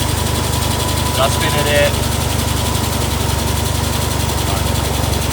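A Mazda RX-7 FD3S rotary engine, newly restarted after an intake manifold gasket replacement, runs at a steady, even idle nearby. A brief spoken word cuts in partway through.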